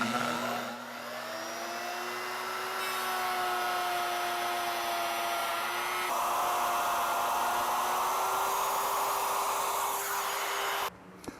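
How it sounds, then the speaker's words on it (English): A router with a 3/4 inch straight bit cutting dadoes gives a loud, sustained high whine that shifts in pitch as it bites into the wood, running nearly the whole time before stopping abruptly. "I'm going to use a router with a 3/4 inch diameter straight bit, and I'm going to make those grooves in 2 passes"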